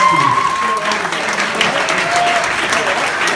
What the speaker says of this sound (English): Let's get a big round of applause for your best man.